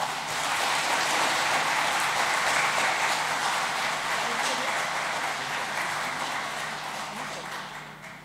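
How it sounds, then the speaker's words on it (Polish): Dense, sustained applause from an audience at a Christmas church gathering, steady and fairly loud throughout before tapering slightly at the end, with no talk over it. "Słabe te brawa były."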